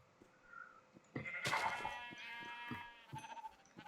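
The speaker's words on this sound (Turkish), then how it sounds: "Koyun koyun koyun." A sheep bleats in a video game, one loud wavering call standing out over soft, sparse background ticks and game ambience.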